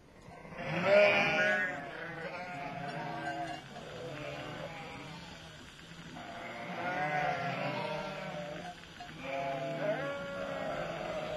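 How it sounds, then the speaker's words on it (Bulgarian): Sheep bleat in a rural radio drama scene, several wavering calls rising and falling across the stretch, moderately close, with faint background ambience. "Хубави овце. Кооперативни."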